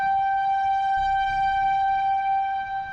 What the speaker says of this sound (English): we got one of the tornado sirens right over here